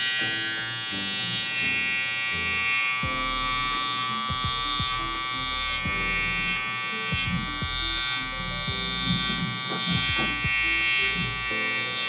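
Electric hair trimmer buzzing steadily throughout while cutting a high taper wave haircut, close and continuous with small shifts in pitch as the blade moves over the hair.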